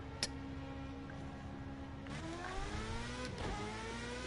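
A Formula 1 car's engine from Project Cars 2 revs up and shifts through gears on the Portugal Grand Prix circuit, a high-pitched whine rising in pitch with quick gear changes, heard alone.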